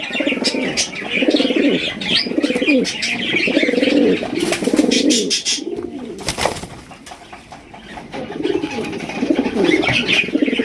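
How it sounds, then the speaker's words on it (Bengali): Lahori pigeons kept in a loft coo in low, rolling phrases that repeat through the scene, with chirping from other birds and a brief burst of wing flapping, close and fairly loud. "একদম ইউসেপের লাহরি কবুতর দেখেন কালার এবং গেটআপ দেখেন আর সাইজ দেখেন"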